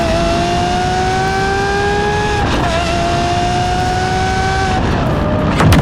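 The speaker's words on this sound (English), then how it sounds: "Get those snaps and pops and bangs as you go through the upshifts, go through the downshifts." A Lamborghini Aventador SVJ with a Gintani exhaust drones loudly and steadily through its gears, with short sharp cracks at each shift.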